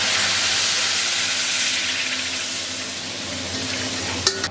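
Potatoes cut into chunks fry in a hot pan with a steady, dense sizzle that holds loud and close throughout, ending with a couple of brief utensil clinks.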